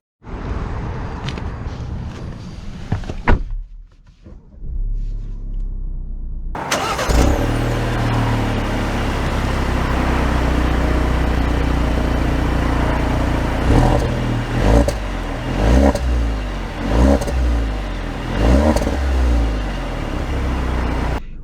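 2022 Alfa Romeo Giulia Veloce starting up after a brief quiet spell, the engine catching loudly then settling into a steady idle and pulling away, with revs rising and falling as it drives off.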